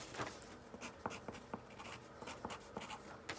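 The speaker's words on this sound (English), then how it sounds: "And write on the piece of paper." A pen or pencil writes on a sheet of paper, quiet close scratching strokes with short taps and scribbles in an uneven rhythm, with no voices.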